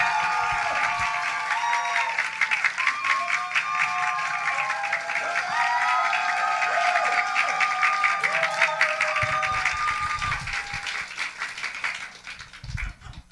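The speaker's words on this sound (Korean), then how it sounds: "목사님 나오실 때 큰 박수 해주시고요" A congregation at a Sunday afternoon praise service greets a pastor with sustained, lively applause lasting over ten seconds, with some cheering voices mixed in, before it tapers off at the end.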